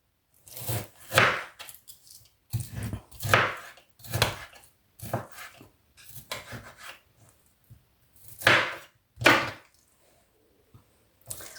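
Raw chicken is cut into cubes with a knife on a board: a dozen or so short, crisp chopping strokes come in irregular bursts separated by brief pauses, close and moderately loud, with no voices.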